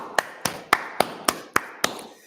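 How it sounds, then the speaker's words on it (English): A single pair of hands claps seven times at a steady, slightly quick pace, each sharp clap close and distinct, offered as applause in a quiet setting with no voices. "Give her a round of applause."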